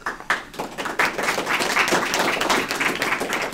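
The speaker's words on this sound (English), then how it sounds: "you can save your applause at the end, or you can just keep clapping because we like that too" A live audience at a LinuxFest Northwest 2019 talk on the command line for kids claps steadily, a dense, close burst of applause that holds strong throughout without pause.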